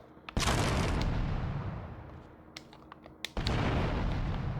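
A grenade explodes in GTA Vice City Stories with a loud close blast, then a long rumbling decay, a few small pops, and a second loud explosion about three seconds later.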